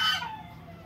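A fighting gamecock with six bouts crows once, briefly, and only the loud tail end of the call rings out before fading into quiet, with no voices.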